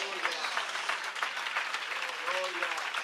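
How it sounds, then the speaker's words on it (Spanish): A congregation claps during a church service, a fairly quiet wash of steady applause with a voice briefly heard over it. "Su mejor aplauso a Dios."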